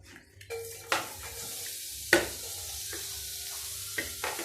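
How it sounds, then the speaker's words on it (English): Onions tossed onto a large flat pan for a vegetable stir fry, giving a few sharp clatters and scrapes at irregular moments over a soft, steady sizzle, close and moderately loud with no talking. "First you toss in the onions."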